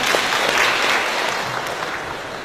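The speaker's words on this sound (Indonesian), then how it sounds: "Tepuk tangan untuk Mas Andreas." An audience at a PSHT gathering claps in steady, dense applause, fairly close and unbroken, fading slightly toward the end.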